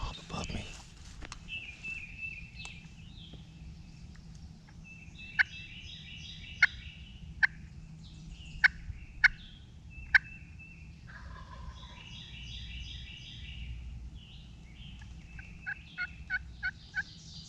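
A wild turkey gobbler on a wooded knob of national forest public land gobbles several times at a distance, the calls rising over a quiet outdoor background along with a few sharp nearby clicks and rustles.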